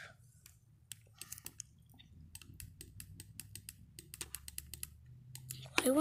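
Computer keyboard being typed on at home, a quiet sequence of light irregular clicks and taps close by, with faint talk and a louder burst near the end.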